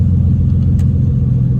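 Heavily tuned Nissan R35 GTR with a 12-injector manifold idling smoothly at 750 RPM, a loud, close, even low-pitched engine rumble with no surging.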